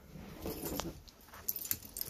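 Keys jingle briefly in the driver's area of a Thor Hurricane motorhome, a few faint metallic clinks and rattles close by.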